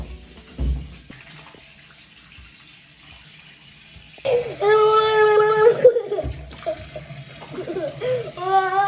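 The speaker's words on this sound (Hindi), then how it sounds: "अभी इवान भी स्कूल से आ गया है, और इसके स्कूल से आते ही हम लोग इसके हाथ मुंह धोते हैं।" Tap water runs steadily at a sink while a child's hands and face are washed, starting partway through and continuing with splashing; a voice is heard over the flow.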